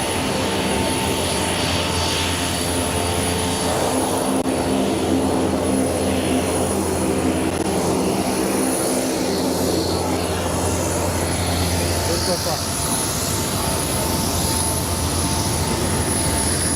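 A cargo airplane delivering AstraZeneca COVID-19 vaccines on arrival in South Sudan, its engines producing a loud, steady roar with a droning hum, heard up close and unbroken throughout with no talk.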